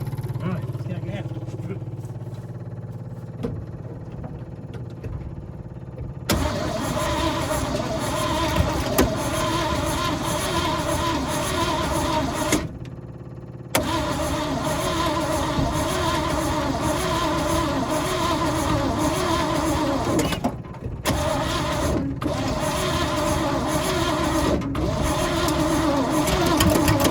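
Abandoned 1966 Chevy engine cranking repeatedly, a loud rhythmic churning in several long bursts broken by short pauses, with a person speaking over parts of it.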